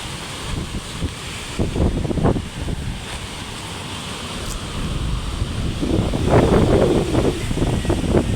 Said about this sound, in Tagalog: Malapit na po ang dagat dito.